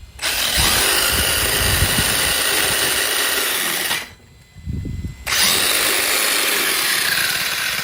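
On a Hosim X27 Vexaro 1/8 scale RC truck, the electric motor spins a wheel at maximum speed with a loud, steady high-pitched whine, cutting out for about a second before spinning up again.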